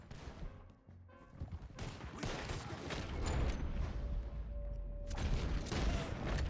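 Bursts of gunfire crackle in Red Dead Redemption 2 during a chase, repeated sharp shots and rattling volleys over a steady rumbling background, with a sustained tone running through the middle.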